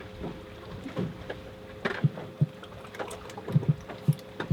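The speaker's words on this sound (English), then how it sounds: "He's got a deep sounding drum." A drum fish makes low, deep thumps in irregular bursts, some spaced apart and some in quick pairs, against quiet watery background noise.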